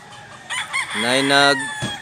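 A fighting-breed gamecock crows once, loud and close, the strained harmonic call rising and holding before breaking off, with a few short clucking sounds ahead of it.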